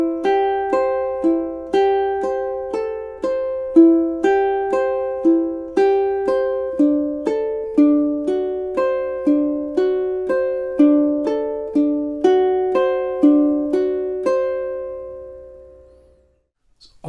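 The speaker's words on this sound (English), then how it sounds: "let's have a go at playing measures 9 and 10 through together now" Solo ukulele plays measures 9 and 10 of J.S. Bach's Prelude in C as steady, evenly spaced arpeggiated broken chords, close and clear, ringing out briefly at the end without talk.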